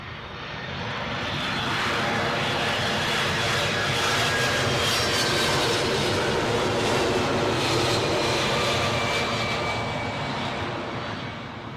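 Jet airliner at London Heathrow airport, a loud sustained engine roar with a broad rushing whine that swells and holds for several seconds, close and dominant.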